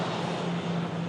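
A Turkish Airlines Airbus A330-300 landing, its steady broadband engine roar and rumble heard from a distance, with a faint low hum underneath and no voices.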